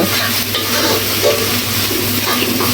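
Data shak greens cooked with dried fish sizzle steadily in a hot pan during bhuna frying, with a spoon scraping and stirring through them in bursts over the constant loud frying hiss.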